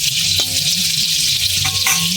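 Potatoes sizzling in hot oil in a pan as they are stirred, a steady bright frying hiss with a couple of scraping stir strokes, close and alone.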